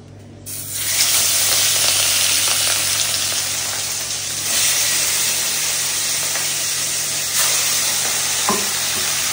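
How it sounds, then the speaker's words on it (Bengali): Large pieces of fresh tilapia frying in hot oil in a kadai, a loud continuous sizzle and crackle that swells as the fish goes in and holds steady, with an occasional faint clink. "এবার মাছগুলো কিন্তু আমি দিয়ে দেবো কড়াই।"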